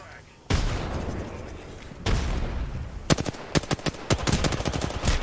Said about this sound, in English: Yep, he's shooting me.